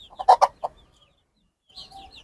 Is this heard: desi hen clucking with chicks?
yes